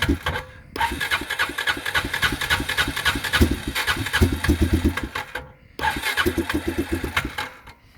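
A small engine turns over and catches after a green start button is pressed, running with a rough, rapid chugging that pauses briefly twice, dropping out then firing back up, close and fairly loud with no talk.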